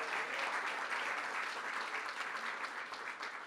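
A political caucus event crowd in Albany applauds an event organizer, dense continuous clapping throughout, fairly even and moderately loud.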